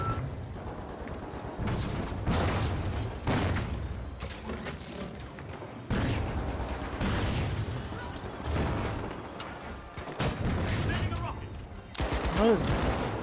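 Explosions and bursts of gunfire from the shooter game THE FINALS, loud repeated blasts and rattling shots through a busy match, with players talking over the action.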